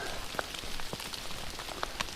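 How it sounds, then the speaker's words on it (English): Steady rain patters on a trail campsite along the Appalachian Trail, a dense close hiss broken by scattered louder individual drops striking nearby surfaces, with no one speaking. "It's been raining ever since 5 o'clock yesterday."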